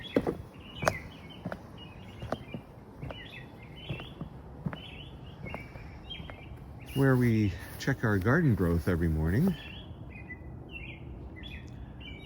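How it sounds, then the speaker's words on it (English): Birds chirp and call in short repeated notes across a rainy morning garden, scattered near and far, while someone speaks briefly over them. "The birds are out this morning."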